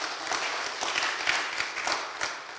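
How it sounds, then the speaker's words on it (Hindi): Applause from a church congregation at a Sunday Hindi service, a dense, steady wash of many hands clapping together at moderate distance, with no voices rising above it. "क्यों ना जोरदार तालियों के द्वारा परमेश्वर को धन्यवाद दें"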